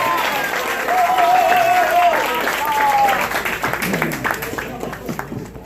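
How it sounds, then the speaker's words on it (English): Applause from a gathered family audience at a memorial tribute, a crowd clapping at moderate loudness with tonal murmurs and a voice speaking over it, the clapping thinning toward the end. "I think a round of applause"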